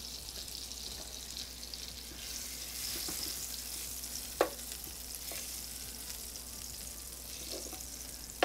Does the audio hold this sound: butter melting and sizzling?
yes